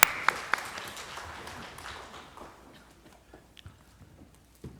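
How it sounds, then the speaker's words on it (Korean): A church congregation at a Wednesday worship service gives brief applause that starts with a few sharp claps and then fades into soft scattered clapping and faint room noise. "하나님께 영광의 박수 올려드리겠습니다"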